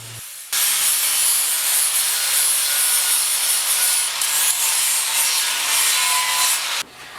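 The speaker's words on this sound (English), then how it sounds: "and we can hit her with a sander" A power sander works over a rear bumper for a 1956 Mercury/Ford, a loud, steady abrasive whir that starts abruptly after a brief pause and cuts off near the end, close up with no talk.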